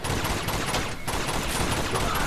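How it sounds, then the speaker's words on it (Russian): Rapid machine gun fire rattles continuously in dense, loud bursts with a brief gap midway, sounding like game combat audio from Uncharted 2: Among Thieves. "Это же гребаный пулемет."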